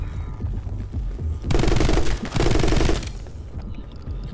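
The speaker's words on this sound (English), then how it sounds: "I need ammo for this damn machine gun" Rapid machine gun fire in the side-scrolling shooter My Friend Pedro, loud and dense in two sustained bursts with a brief gap between, over a low game soundtrack.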